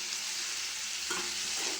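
Mint leaves sauté in a pan for a chutney, giving a steady, soft sizzling hiss with a faint stir of the spatula near the end.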